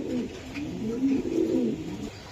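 Pigeons coo in a racing pigeon loft, producing low, warbling, overlapping calls up close over about two seconds, steady and unaccompanied by talk.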